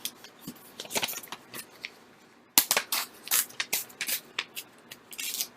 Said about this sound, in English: I'm going to tear it off